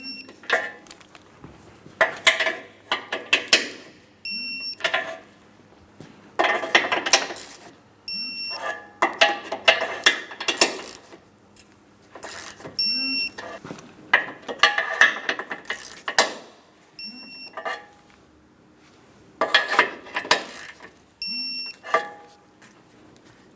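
Torque wrench tightening bumper bolts on a 2003-2007 Cadillac CTS, heard as repeated bursts of close mechanical ratcheting, each run ending in a sharp beep-like click, with short pauses between bolts.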